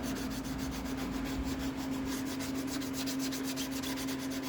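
Hand wet sanding of a Mandalorian helmet, a continuous close rubbing and scraping with a steady low hum underneath and no pauses throughout.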